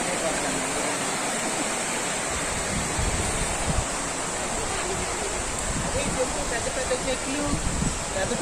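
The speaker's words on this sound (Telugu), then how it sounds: "చాలా వాటర్ ఫాల్స్ చాలా భయంకరంగా ఉంది, కానీ చాలా బాగుంది." Bhairavakona waterfalls near a Lord Shiva temple roar as a dense, continuous rush of falling water, loud and close, with a voice briefly talking over it.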